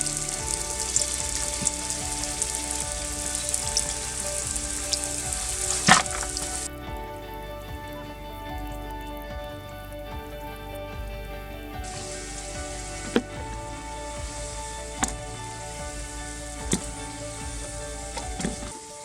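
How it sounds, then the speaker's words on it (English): Mongolian khuushuur meat pockets frying in hot oil, a steady close sizzle that lasts throughout, with a few faint clicks and taps from handling. "Now it's ready to fry."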